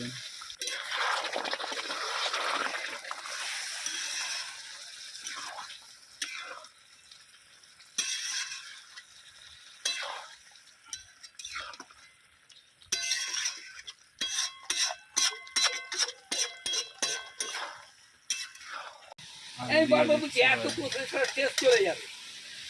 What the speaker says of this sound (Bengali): এবারে আবার একটু কিছুটা জল দিয়ে আবার কষবো 8 ঘন্টা।